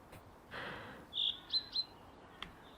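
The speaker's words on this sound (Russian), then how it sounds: "О, слышу, кто-то чирикает." Birds chirp in the Sally Face video game, several short, thin, high tweets in quick succession against a quiet background, with a soft rustle before them.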